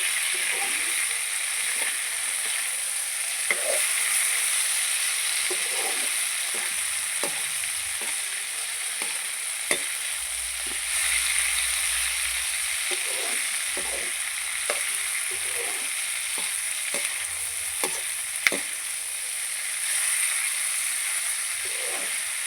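Dried pork, cut into small pieces, frying in its own rendered fat plus mustard oil in a pan with no water added: a steady, close sizzle throughout, with scattered pops and stirring scrapes.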